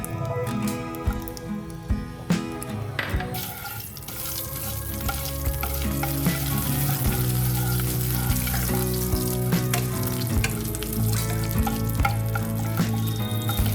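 Oil and ghee heat in a pan and sizzle steadily, with crackling and popping over a constant frying hiss and a few stirring scrapes. The sound is close and unbroken, and no one speaks.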